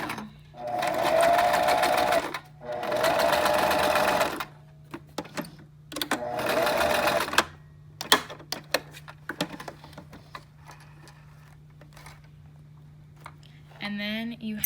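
Sewing machine stitching a fabric face mask strap, running in several loud bursts with pauses between, then quieter handling noises; a person talks briefly near the end.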